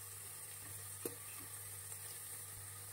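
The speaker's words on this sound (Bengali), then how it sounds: "আলুটা কিন্তু আমাদের অলরেডি ভাজা হয়ে গেছে" Potatoes frying in a pan while cooking a banana-flower curry, giving a steady low sizzle throughout with a faint stir or clink near the middle.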